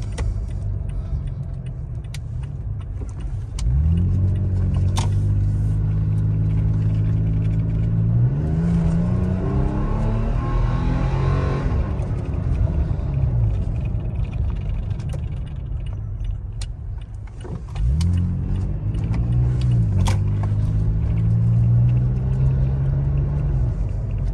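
A 2018 Toyota Tacoma pickup with Flowmaster and Supertrapp exhaust climbs a hill, engine rumbling and revving under load, pitch rising through gears, a deep steady drone with a loud exhaust note throughout.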